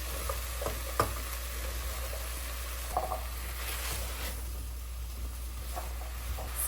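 Onion, garlic and parsley sautéing in a pan, a steady soft sizzle with a few stirring clinks and scrapes, close and constant under a low hum.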